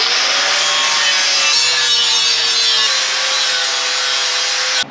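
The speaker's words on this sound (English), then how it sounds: "I'm gonna bevel the front of these a little bit so I can burn it in a little nicer." Grinding a small bevel onto the front edge of thin metal brackets for a 1958 Chevrolet Fleetside truck build. A steady, loud abrasive whir continues without a break for the whole stretch, with no talking.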